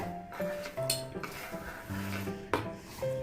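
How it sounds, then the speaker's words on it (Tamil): Chopped onions are tipped into a cooking pot while an evening snack is being made, giving a couple of brief scraping, clattering bursts against the vessel over steady background tones. "அதோட இந்த வெங்காயத்தை இந்த பாத்திரத்தில் கொட்டிடுங்க."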